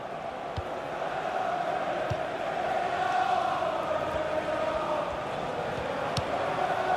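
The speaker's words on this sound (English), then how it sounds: "Great passing, and the crowd really enjoying it" In a FIFA 16 Premier League football match between Crystal Palace and Leicester, a stadium crowd gives a steady, far-off roar of cheering with occasional ball kicks, the noise swelling slightly midway and continuing without break.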